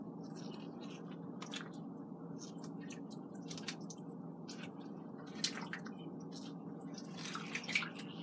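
Thick, creamy loaded baked potato soup is stirred in a crockpot, giving quiet, soft wet squelches and drips over a low steady background hum.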